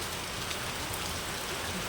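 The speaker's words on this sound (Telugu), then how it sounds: "వాన వచ్చేస్తుంది." Heavy rain falls steadily as a dense, continuous hiss, moderately close and even throughout with no pauses and no one speaking.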